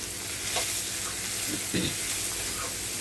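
Onions with a pinch of turmeric frying in a pan for traditional homemade barada, a steady soft sizzle with a few stirring scrapes, close and fairly quiet, no talking.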